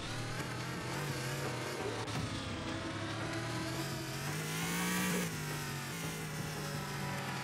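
A buggy's mid-pitched engine drones steadily through Egyptian-style desert ruins in the game Fatal Flashpoint, its tone rising and falling slightly as it drives on, continuous and fairly close with no voices.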